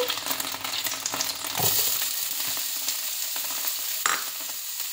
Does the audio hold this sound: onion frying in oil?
yes